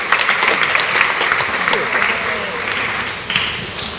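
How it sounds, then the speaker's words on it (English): A class audience applauds its teaching assistants in a lecture hall, a steady wash of many clapping hands that holds for several seconds and then eases slightly, with faint voices mixed in. "if we could give our TAs a round of applause"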